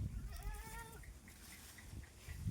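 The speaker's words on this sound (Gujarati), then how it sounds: "જુઓ બકરા આવી ગયા છે આપણી વાડીમાં" Goats bleat in a farm field, a wavering cry near the start followed by several shorter, fainter bleats spaced through the rest, over low rumbling outdoor background.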